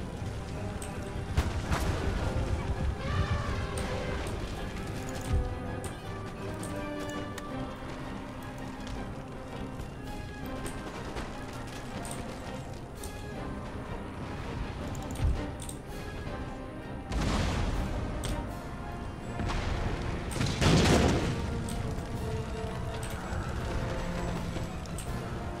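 Musket and artillery volleys in a Russian battle in the Empire: Total War strategy game, a dense wash of crackling gunfire and booms over a busy game-music bed, with a heavier burst of fire near the end.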